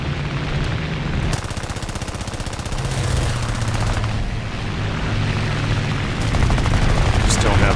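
Rapid aircraft machine-gun fire from a Gladiator Mk I in War Thunder air arcade rattles in sustained bursts over a steady engine drone, loud and close, with someone talking.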